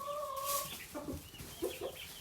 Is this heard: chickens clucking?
yes